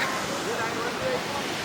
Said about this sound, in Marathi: हे वरतून आलं हिमालयातलं पाणी